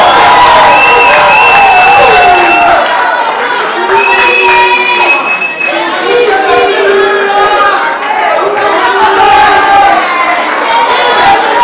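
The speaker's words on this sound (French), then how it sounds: "On va applaudir toutes les femmes, mesdames et messieurs." Wedding guests cheer and clap for the women in a loud, dense crowd roar, with shouts and chatter over continuous applause throughout.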